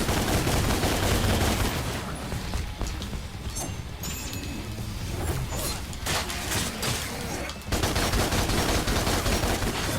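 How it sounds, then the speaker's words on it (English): Dense, loud gunfire from the guns in DmC: Devil May Cry rattles almost continuously in rapid bursts, with a short dip near the end before the shooting resumes at full intensity. "the guns are really loud, and I do not like the sound"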